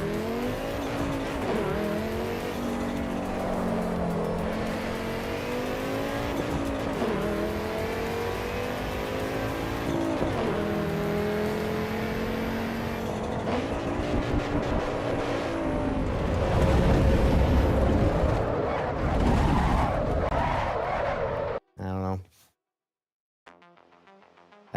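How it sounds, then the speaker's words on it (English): Race car engine in the Assetto Corsa EVO sim game, loud and close, revving up and down through repeated gear changes, with tire squeal and skidding near the end before a brief drop to near silence. "That car, it sounds better, but the driving of it felt pretty janky."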